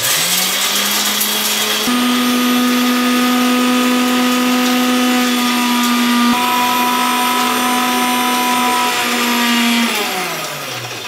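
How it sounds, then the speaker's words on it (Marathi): A kitchen mixer grinder pulverises peeled peanuts into a fine powder, running as a loud, steady motor whine that holds for about eight seconds before spinning down at the end. "मिक्सरला लावून घेऊया।"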